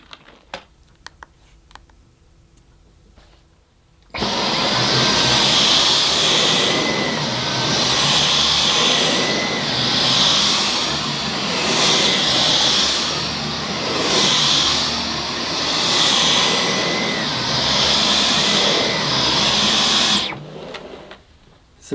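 A Dyson Digital Slim cordless vacuum motor on medium power whirs loudly and steadily over pile carpet for most of the clip, with a rhythmic swell as it's pushed back and forth, then stops abruptly.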